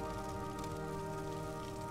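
Rain falls in the video game Morrowind as a faint, continuous hiss and patter that stays even and unbroken under a low steady hum, with no voices over it.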